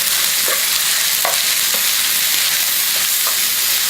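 Blanched, chopped broccoli tossed in a hot pan, a loud continuous sizzle broken by a few sharp scraping knocks of the pan, with no talking.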